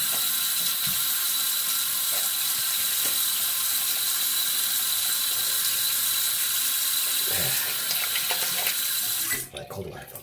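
Tap water runs steadily into a sink to rinse a RazoRock Hawk razor, a constant close hiss of flow with faint metallic clicks, then stops abruptly near the end.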